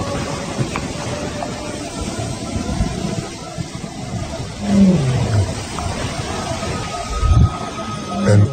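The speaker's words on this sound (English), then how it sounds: "An unfamiliar roar. Nomads from upriver." Nomadic male lions roaring from upriver in the African wild, deep grunting roars rising a few times over a constant low rumble of ambience, moderately distant.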